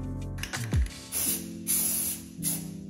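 Aerosol can of primer sprayed onto a Porsche 996 Turbo interior part in about three close hissing bursts, each roughly half a second long, with brief clicks and handling noises between them.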